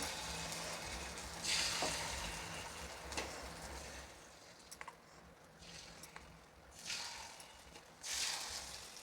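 Appe batter frying in peanut oil in an appe pan for a fasting-day recipe, a soft steady sizzle with a few louder hissing swells as more batter goes in, close and without talk.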